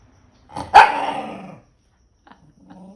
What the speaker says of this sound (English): Hilariously terrifying barks and all.